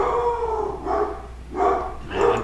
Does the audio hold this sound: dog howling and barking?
yes